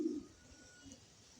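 Racing pigeon squabs give a short, soft coo right at the start, followed by a faint, quiet background with no talk.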